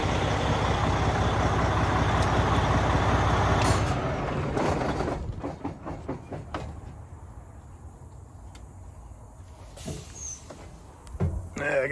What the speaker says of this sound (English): Let me turn this truck off real quick.